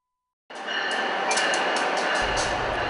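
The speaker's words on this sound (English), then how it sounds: "A train ride." Passenger train ride with a steady, loud rolling rumble and rattle that starts abruptly and continues without a break, carrying a few faint clicks over the wheel noise; no one speaks.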